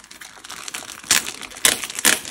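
A plastic bag wrapped around a diamond painting canvas crinkles close up during unpacking, in three sharp rustling bursts over steady faint handling noise.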